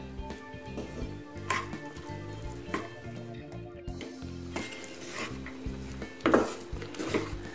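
Tamarind rice (puliyodharai) being stirred and mixed in a metal vessel, with repeated scraping and clinking of a ladle against the pot, fairly soft and close, no talking.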